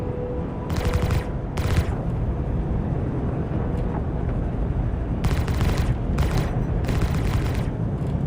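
Staggered spaceship cannons fire in sci-fi bursts over a continuous heavy rumble in the video game Star Citizen, with booming blasts clustering in short volleys.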